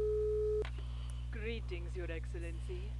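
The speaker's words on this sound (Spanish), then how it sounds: "Tenemos una llamada al teléfono, Alicia." A steady electronic ringing tone signals an incoming phone call in the video game Rogue State, holding for about half a second before it cuts off. A voice then speaks over a low constant hum.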